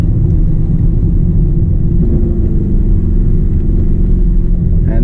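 Lamborghini Urus engine at the Goodwood Festival of Speed, a loud steady rumbling drone from inside the car as it drives the track, with no letup throughout.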